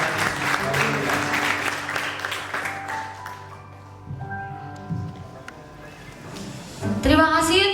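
Applause from the audience at a school Christian Christmas gathering, a steady wash of clapping beneath a held musical tone, fading midway then swelling again near the end as a voice cuts in.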